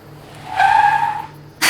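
A Minecraft car skids to a halt, a single sharp tire squeal lasting under a second, loud and close, followed by a brief burst of noise; no voices.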